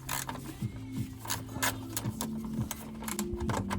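A ratchet loosening a 10mm bolt on a coolant pipe clamp of a Porsche 997/996, quick rapid clicking in short bursts with steady pawl ticks, close and fairly quiet.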